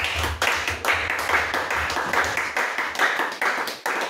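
A church congregation claps in a brisk, steady rhythm, with a few voices faintly mixed in.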